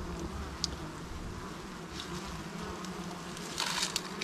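Bees hum in a steady, low buzzing drone around a hive, with faint rustles and scrapes mixed in.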